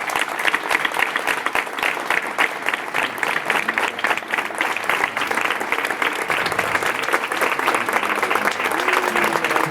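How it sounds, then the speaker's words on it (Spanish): Applause fills a village plaza in Escañuela after a Bécquer poetry recital. Dense, lively clapping from a sizeable crowd holds steady and loud for the whole stretch, with scattered voices faintly mixed in. "Un fuerte aplauso para ellos"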